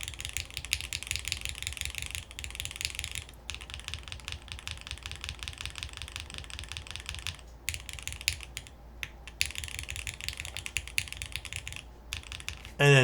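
Rapid, continuous typing on a mechanical keyboard fitted with milky yellow switches, from a HellCat Alice Mech-01 build. Dense clacking keystrokes come close up with brief pauses throughout and no voices.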